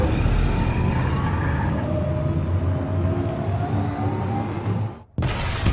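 A truck in the game Detroit: Become Human drives in a continuous loud engine roar with a rising whine. It cuts out abruptly near the end, then comes back at full volume.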